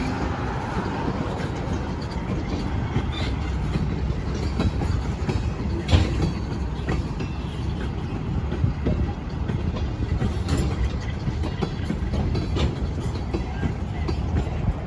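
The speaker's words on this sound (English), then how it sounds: "2453, a C425 built in 1964 for the Erie Lackawanna, switch a few customers in Rome." ALCO C425 diesel locomotive, built in 1964 for the Erie Lackawanna, switching rail cars for customers in an industrial park in Rome, with a steady rumble, clanking wagons and occasional bangs, moderately distant.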